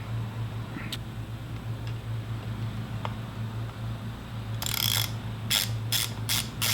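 A hand ratchet snugs a 4 mm Allen bolt on a Yamaha WR250R motorcycle engine, making a few sharp, close clicking bursts near the end over a low steady hum.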